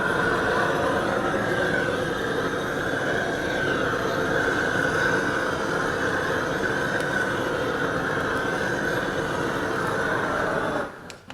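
A kitchen blowtorch roars steadily and loudly while toasting the top of a ratatouille, a continuous close hiss that holds for about ten seconds before cutting off.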